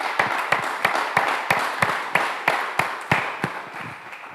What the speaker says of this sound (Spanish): podemos ofrecerle palmas al Rey